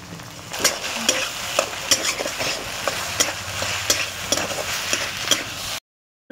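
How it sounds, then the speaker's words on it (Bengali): Potato sautéing in oil with ginger paste and green chilli paste, a constant sizzle with regular rhythmic scrapes of a spatula about twice a second, cutting to brief silence at the end. "আলুটা আমি কষানোর জন্য আমি তেল দিয়ে দিচ্ছি।"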